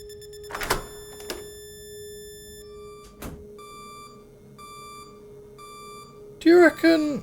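An alarm in the video game Ellingby House sounds in repeated electronic bleeps over a constant tone, with a few sharp clicks, before someone briefly says something at the end.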